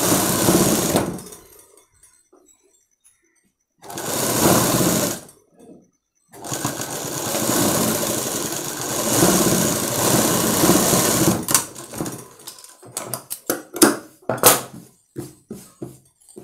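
Sewing machine stitching thread piping onto puff sleeves, running in several bursts separated by pauses, then a series of short, quick stitch runs near the end.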